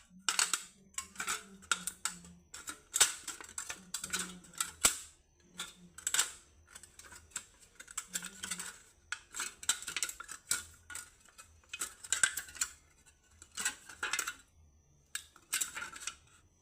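An aluminium beer can is crushed by hand, giving repeated sharp metallic crinkles and crackles in irregular bursts over many seconds, close and fairly quiet, with no talking.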